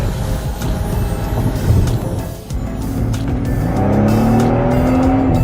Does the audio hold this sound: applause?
no